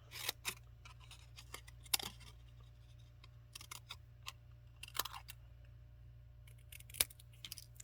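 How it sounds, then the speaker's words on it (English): Scissors snipping apart paper word die-cuts for a butterfly card, a string of crisp close snips at uneven intervals over a steady low background hum. "Then we're just going to snip this apart to get the words that we want."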